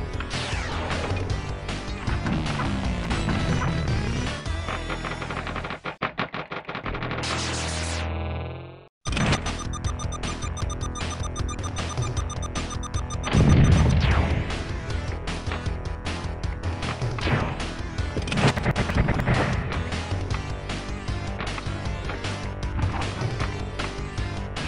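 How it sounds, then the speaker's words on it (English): Cannon loading and firing in the Pinball Arcade video game, with dense loud electronic game sound, a sudden drop to silence near the middle, then a booming resumption and continued busy music and effects. "Load the cannon."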